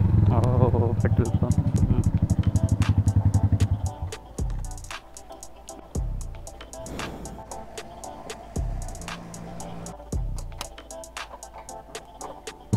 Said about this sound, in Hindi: निकलते हैं अभी थोड़ा सा राइड करके आते हैं बाइक को